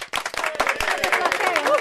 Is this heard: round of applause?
yes